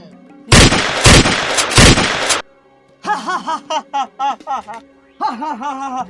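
Three loud, rapid gunshots blast in quick succession, followed by bursts of a man's laughter and chuckling.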